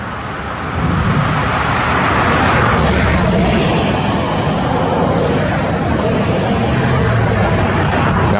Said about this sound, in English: this Delta jet just came through